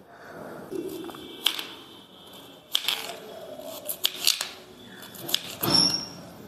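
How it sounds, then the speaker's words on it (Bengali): A knife finely chopping a carrot on a cutting board makes a series of irregular, crisp taps and clicks, close and fairly loud, spaced unevenly with short quiet gaps between bursts. "গাজরটাকে ভালো করে কুচি কুচি করে আগে কেটে নেব।"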